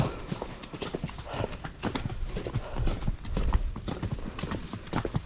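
Steady clip-clop of the hooves of a horse pulling a cart loaded with rice on a hard surface, continuous and fairly close, with rhythmic rattling and faint voices in the background.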